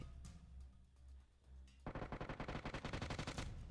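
Video game gunfire: a few scattered shots, then a rapid, evenly spaced burst of automatic fire, loud and close.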